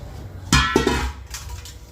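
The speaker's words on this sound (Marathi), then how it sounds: "आता कापते मी सुरीने कापलं म्हणजे बरं होईल" A knife cuts into a frozen melon with a couple of sharp, hard knocks and cracks close by, followed by fainter scraping clicks, with no voices.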